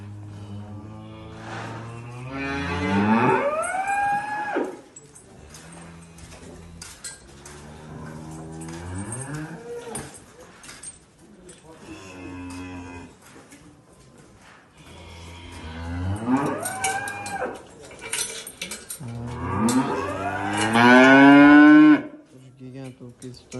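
Cattle and young calves on a feed farm moo loudly and close by in several long, drawn-out calls, with one especially strong bellow near the end and faint clinks between them.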